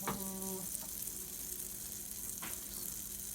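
Food sizzles steadily in a hot pan, a constant bright crackling hiss close by, with a brief faint voice at the start.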